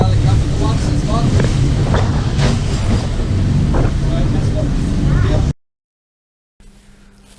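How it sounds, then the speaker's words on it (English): Boat motor cruising through an inlet in the Whitsunday Islands, Queensland, a steady loud engine drone with wind buffeting the microphone for about five seconds, then a sudden cut to near silence and a faint hum returning. "The motor sort of drowned out what I was trying to say"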